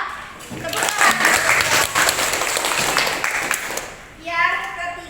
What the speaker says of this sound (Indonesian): Beri tepuk tangan pada Keisha.